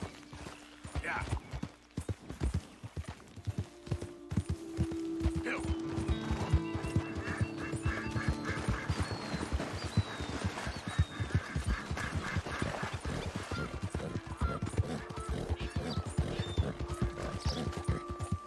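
Horse hooves clip-clopping at a steady riding pace with an occasional neigh in Red Dead Redemption 2, with game ambience and someone talking over it.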